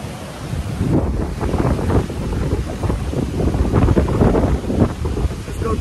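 Ocean waves wash onto a beach under gusting wind, a steady broadband roar with wind buffeting the microphone, continuous and fairly loud, no voices.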